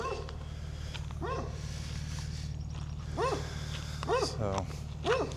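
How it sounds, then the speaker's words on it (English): Several dogs bark and yip in short, spaced bursts at a rural Appalachian property, some barks doubled, over a steady low engine-like hum. "there's some sweet, lovely dogs"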